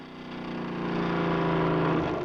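A car engine revs and builds steadily, the drone growing louder and rising in pitch as it accelerates.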